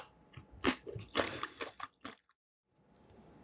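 Crunchy bites and chewing of a rice paper noodle dish with crisp vegetables, chicken breast and gochujang peanut sauce come in a close burst of crunches, then fade into a brief quiet.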